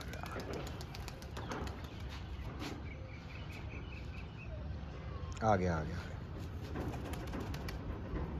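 Pigeons coo and flutter amid steady background noise, with a brief burst of wing flapping near the middle while people talk excitedly.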